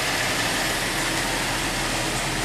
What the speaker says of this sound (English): So all we're hearing is the normal exhaust sound out of the tailpipe